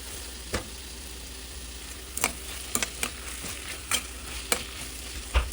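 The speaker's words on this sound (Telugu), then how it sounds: "టమాటో సాఫ్ట్ అయ్యే వరకు మీడియం ఫ్లేమ్లో పెట్టుకొని ఫ్రై చేసుకోండి" Tomatoes with salt fry over a medium flame for paneer biryani, a soft, low sizzle running underneath while a spoon knocks and scrapes the pan in several distinct taps, close by with no speech.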